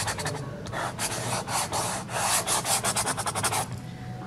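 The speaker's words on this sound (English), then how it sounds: "So here I am just rubbing that in." A fingertip rubs pastel into paper for a storm-cloud sky, giving a close, steady series of soft rhythmic scrubbing strokes that speed up toward the end.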